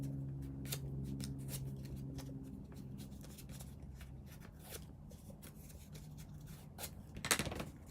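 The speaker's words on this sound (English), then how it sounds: "I'm going to break it up a little bit more with the bone folder" Paper is worked over with a bone folder in a craft session, giving soft scraping and crinkling strokes in irregular bursts, fairly quiet and close, with a sharper rustle near the end.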